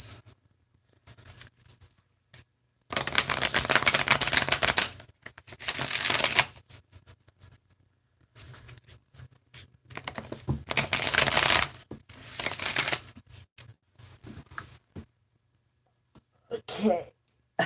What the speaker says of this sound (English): Let's pull some tarot cards for Sagittarius.